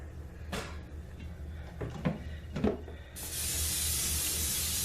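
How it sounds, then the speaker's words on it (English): Pam cooking spray hisses into a crock pot after a few soft clicks and handling noises, a steady, close aerosol spray that continues for nearly two seconds at the end. "spray your crock pot with Pam spray."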